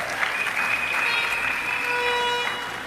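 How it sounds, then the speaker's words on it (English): An audience applauds for the Caribbean poet Derek Walcott during a candidates' presentation, a moderate, steady patter of clapping for about three seconds with some thin tonal ringing above it. "Give him a round of applause, Derek Walcott."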